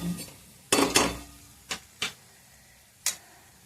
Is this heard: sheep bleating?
no